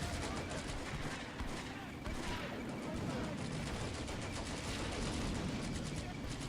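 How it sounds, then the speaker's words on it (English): Bazooka teams firing in the Combat Mission: Beyond Overlord wargame at Herrlisheim, heard as a dense, continuous roar of rapid gunfire-like bursts and blasts at steady, loud level throughout. "there is like 2-3 bazooka teams shooting him now"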